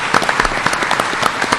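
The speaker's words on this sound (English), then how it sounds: "Let's give her a round of applause." Audience applause at a community reconstruction meeting attended by a governor in Broome County, a steady patter of many hands clapping at moderate volume with no speech over it.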